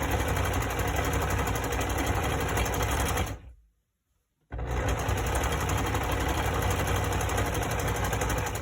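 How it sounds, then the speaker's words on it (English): A sewing machine stitches two face mask fabric pieces together in a loud, steady whirring run, stopping for about a second midway before resuming at full speed. "Sew the two pieces together."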